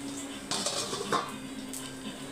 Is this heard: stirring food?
yes